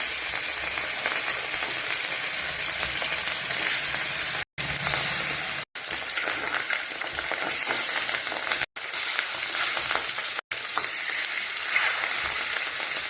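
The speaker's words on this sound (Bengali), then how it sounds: "তেল গরম হয়ে গেছে, এখন মাছটা দিয়ে দেবো।" Catla fish with its roe spits and sizzles in hot oil, a loud continuous frying crackle broken by several short cuts, with no voices over it.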